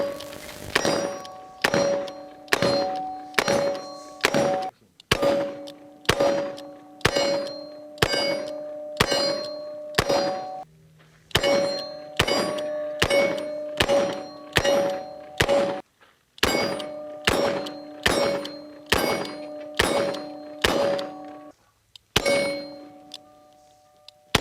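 A Colt Python revolver fires .38 Special rounds at a steel target, producing a long run of loud, ringing clangs in quick regular strings with short pauses between groups.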